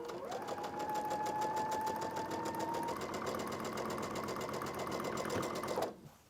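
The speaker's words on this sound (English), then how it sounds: "We're just going to chain stitch this, and this will complete the top row." A sewing machine chain-stitches quilt block pieces for a tulip block, running steadily at a fast, even rhythm close by for several seconds before stopping abruptly.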